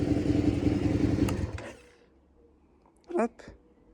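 Suzuki SV650 motorcycle engine from 2018 idling loudly up close, then cutting out abruptly at about one and a half seconds, leaving near silence broken by a short voice.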